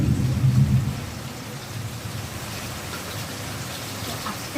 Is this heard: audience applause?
no